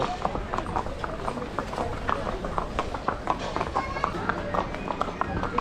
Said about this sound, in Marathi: फायनली घोड्यावर चाललो पॉईंट बघायला